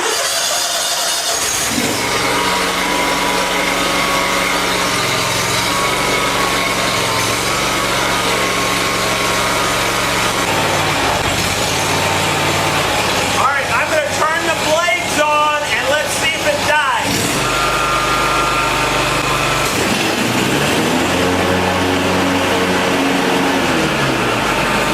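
Lawn mower engine, just repaired, turning over and catching, then running at a steady drone close by, with a rough sputtering stretch midway before settling back to an even idle.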